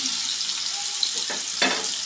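Paneer frying in hot ghee in a pan gives a steady, close hiss of sizzling, with a couple of brief louder crackling bursts near the end.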